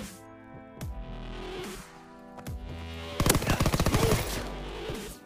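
Gunfire in the video game Call of Duty WW2: a few isolated sharp shots early on, then a fast rattling burst of automatic fire near the end, over faint ringing game audio.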